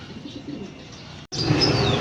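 Soft, low cooing of racing pigeons close by, being readied for release, with a faint chirp and rustle, continuing after a brief gap.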